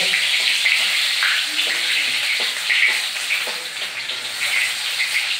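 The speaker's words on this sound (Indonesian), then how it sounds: "yang ini 1 siung bawang merah. Kita goreng dulu terlebih dahulu." A shallot fries in hot oil in a pan, a steady, close, bright sizzle with crackling pops that carries on without a break and no voices over it.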